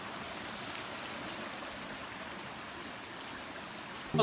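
A forest stream runs over rocks with a steady, continuous rush of flowing water, close and even throughout, with no voices and only a brief knock at the very end.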